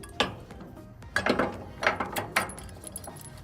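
Metal clamp bolts are started and turned on a trac bar bracket, giving a few separate clicks and ratchet-like metallic clinks at close range with no talking.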